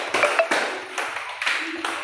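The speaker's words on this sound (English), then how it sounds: "Very good. Super. Clap for Nishmin." A group of children clap in a few short bursts, fairly close, with a voice briefly heard between the claps.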